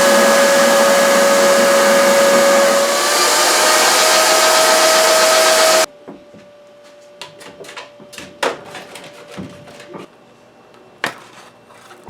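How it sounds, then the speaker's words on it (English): A vacuum former's loud, steady motor roar runs for several seconds while forming a thin PETG plastic sheet and stops abruptly, followed by scattered clicks, taps and handling knocks in a quiet room. "So I got my vacuum former out and formed it using thin PETG sheets."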